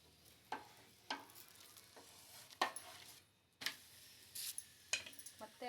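Chapati placed on a hot tawa with a little oil, giving a steady soft sizzle broken by sharp scraping and flipping strokes at irregular intervals, close and moderately loud with no talking.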